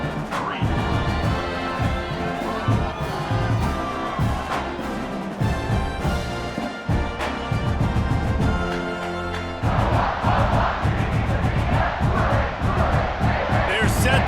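Stadium crowd in the EA College Football 26 video game roars and chants before a kickoff, a loud continuous wall of cheering with a rhythmic band-like pulse, heard under commentary.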